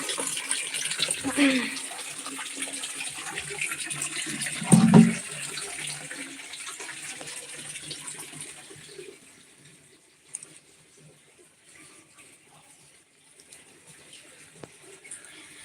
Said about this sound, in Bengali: দেখো কলের জল চলে এসেছে